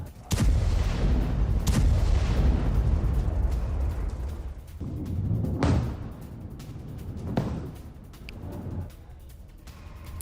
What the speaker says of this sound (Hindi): इजराइल डिफेंस फोर्स ने अल ताहिर पर जबरदस्त बमबारी की है।